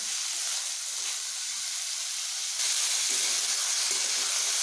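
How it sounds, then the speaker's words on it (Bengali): Potatoes and papaya pieces frying with salt in a pan give a soft, even hiss and gentle sizzle, fairly quiet and continuous, growing slightly brighter partway through. "নুন মিশিয়ে এভাবে ভেজে নিচ্ছি"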